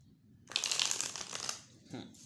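A deck of tarot cards is riffled after a short quiet lead-in, giving a fast, crisp rush of flicking card edges lasting about a second, then a softer shuffle before trailing off.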